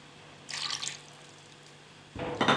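Water poured in two short splashes into a pan of cooking chicken karahi, the first burst soft and brief, the second louder near the end, with a quiet pause between.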